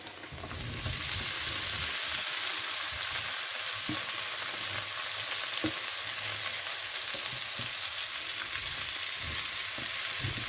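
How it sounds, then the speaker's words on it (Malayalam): Raw plantain pieces drop into a hot, dry pan for a spicy stir-fry. The sizzle rises sharply within the first second, then holds as an even hiss, with occasional light ticks of a spatula. "നമ്മളെടുത്ത് വെച്ചേക്കുന്ന കായ നമുക്കിതിലോട്ട് ഇട്ട് കൊടുക്കാം"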